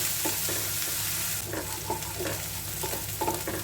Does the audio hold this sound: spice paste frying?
yes